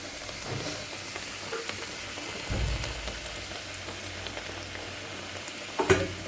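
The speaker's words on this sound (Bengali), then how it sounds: "এখন আমি এখানে সব কিছু মশলা একদম ভালো করে ভাজা হবে।" Spices fry in a pan with a soft, continuous sizzle and occasional stirring scrapes, ending in a short metallic clatter close by, with no talking.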